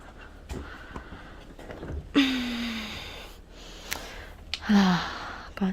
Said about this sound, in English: why is she breathing this hard?